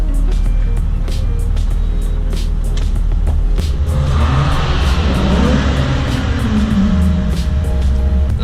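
A Nissan 350Z engine hums steadily up close, then swells in a rising, falling rev that peaks mid-clip before settling back to a loud, even drone, with no talking.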